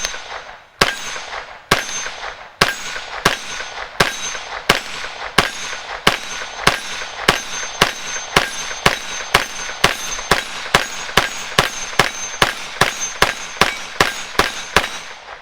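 Rapid, evenly spaced shots from a CZ Scorpion Evo, each with a sharp metallic clang off a steel target, about two per second, loud and close, nothing else heard.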